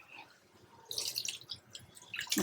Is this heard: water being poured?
yes